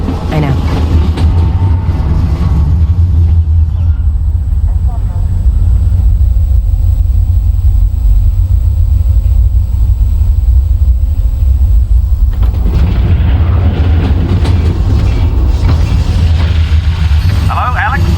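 A train rolls along in Half-Life: Alyx with a heavy, continuous low rumble and rattling, loud and close, while a voice talks over the noise. The sound thins briefly in the middle before it surges again.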